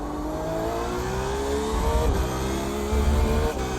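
An LMP2 prototype race car coming through the field at Spa in a racing game, its engine revving loudly and steadily with a pitch that climbs through the gears and shifts once or twice, with no talking.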